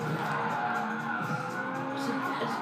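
In a Gran Turismo race, a car drifts with a sustained tire skid, its engine droning steadily underneath at moderate level.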